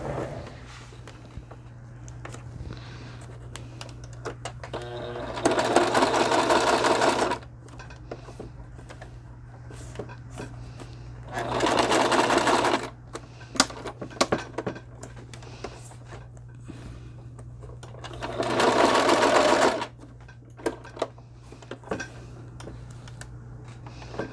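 A sewing machine stitching for stamp card crafting, in three separate bursts of steady mechanical whirring, each lasting a couple of seconds, with quiet pauses and a constant low hum between runs.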